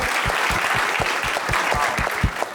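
A comedy show audience applauds loudly and steadily, with a heavy, rhythmic thump running through the clapping for the whole stretch.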